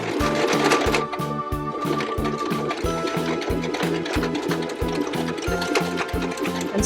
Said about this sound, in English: And sew all the way across.